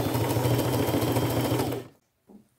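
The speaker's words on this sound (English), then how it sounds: "I am going to take it to my machine, use a gold colored thread, stay close to the edges, go around every patch until they're all sewn on." A sewing machine stitches fabric patches onto a flannel shirt with gold thread, giving a fast, steady mechanical whir close by that stops sharply near the end and is followed by a faint clunk.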